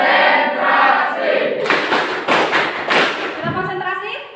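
A classroom of students performs the rhythmic concentration clap, a burst of loud, patterned claps and thumps mixed with voices, after a teacher's calm speech.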